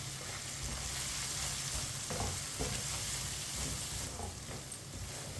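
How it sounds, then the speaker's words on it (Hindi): Ground red chili, crushed red chili, turmeric and coriander powder being stirred together in hot oil in a pan for a ridge gourd dish produce a dense, steady sizzle with scattered spatula scrapes, close by and without speech. "मसालों को मिक्स कर लेंगे"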